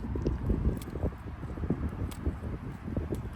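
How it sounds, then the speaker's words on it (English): Gusty wind buffets the microphone outdoors at a shooting spot, making low, uneven rumbling bursts that rise and fall throughout. "Windy here, windy."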